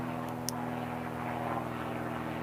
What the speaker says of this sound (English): Get out of here, plane.